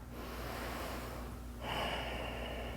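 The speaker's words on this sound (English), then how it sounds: "Let's take a breath." One deep breath during a yoga class: a long airy inhale, then a fuller, breathier exhale, close and unaccompanied by talk.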